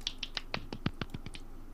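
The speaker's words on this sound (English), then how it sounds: "that was the most pathetic applause in history" Weak, sparse applause from a small podcast audience: roughly a dozen quick, faint claps in an uneven patter lasting under two seconds, with no voices.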